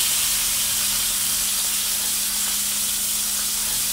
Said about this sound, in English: Press down with my tongue and searing all that skin